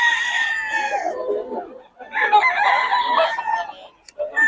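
Roosters in Bocaue crow loudly and nearby, two long calls in succession with a short clipped call at the end.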